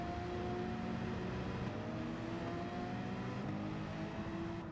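Race car engines in Gran Turismo 7 during a Manufacturers Cup race, a faint, steady whining drone with shifting pitch as the car accelerates and changes gear, with other cars close by.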